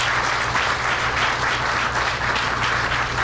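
Audience applause at an outdoor groundbreaking ceremony at Roosevelt and Kostner on Chicago's West Side, given for the elected officials: a dense, loud, continuous wash of many hands clapping with a low steady hum beneath.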